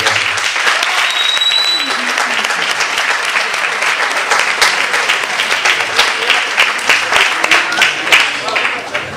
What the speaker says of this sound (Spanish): un aplauso por estar aquí